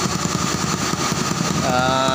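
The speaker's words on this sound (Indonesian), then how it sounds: "Jadi ini motor udah hidup" A Honda Legenda motorcycle engine idles steadily at close range after an ignition wiring fault was fixed, with a constant rhythmic putter throughout.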